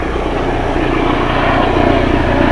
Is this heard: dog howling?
no